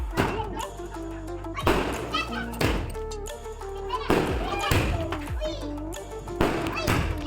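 Firecrackers go off during a family's Diwali celebration at home, a string of loud sharp bangs and thuds bursting at intervals amid crackling, with children's voices and chatter around them.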